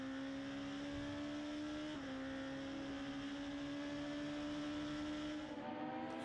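Skoda Fabia Cup race cars at speed on the Magny-Cours circuit, a steady high-revving engine drone with a slight pitch shift midway, continuous and fairly distant.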